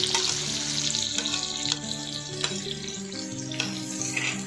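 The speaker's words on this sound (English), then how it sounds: "Fry the onions till it turns brown color." Chopped onions sizzle and crackle steadily in a hot pan while frying to brown, with a continuous frying hiss and occasional louder pops.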